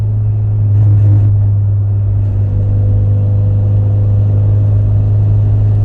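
Mazda Miata four-cylinder engine held steady in third gear at 3,000 RPM, a continuous loud, low droning hum with constant rumble throughout, heard from inside the car with no talking.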